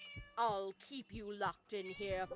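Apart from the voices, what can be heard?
cat meowing in video game Scary Teacher 3D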